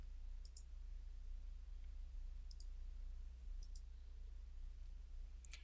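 A computer mouse gives a few faint, sharp clicks, single and in quick pairs, spaced several seconds apart over a steady low hum while an object is selected in software.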